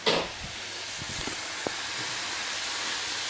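Stir-fry noodles hitting a hot pan in a teriyaki stir fry, a loud burst of sizzle at first that settles into a steady hiss, with a few faint clicks of utensils.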